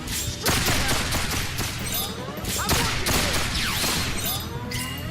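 Dense bursts of gunfire and crashing impacts from a Resonance of Fate battle, rapid shots layered under game music and whooshes, loud and continuous throughout.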